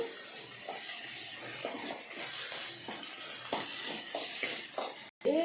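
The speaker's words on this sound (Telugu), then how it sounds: "అల్లం తెల్లగడ్డ పేస్ట్ వేస్తున్నానండి." Ginger garlic paste frying in a pan: a steady close sizzle with regular scraping stir strokes roughly every half second, ending in a brief drop to silence and a final clatter.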